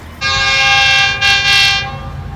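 A train passes close by and sounds a long, loud, steady horn blast that dips briefly midway and then resumes, carried over a low rumble from the tracks.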